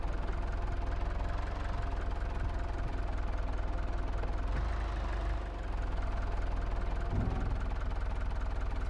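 Tractor engine from Farming Simulator 22 runs steadily at idle, a constant low rumble with mild knocking texture that holds level throughout, briefly dipping once midway.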